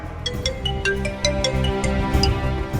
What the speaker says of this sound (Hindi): ये देखिए, शगुन जी का फोन आ रहा है।